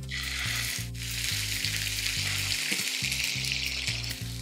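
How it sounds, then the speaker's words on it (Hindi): Onion paste sizzles steadily in hot oil for a matar paneer gravy, a continuous close frying hiss with a faint low hum beneath and no talking. "so, I've added about a cupful of onion paste to this."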